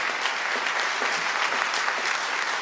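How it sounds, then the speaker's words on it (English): Steady applause from an audience at a church gala, a dense even patter of many hands filling the room with no voices standing out. "Clap if you agree"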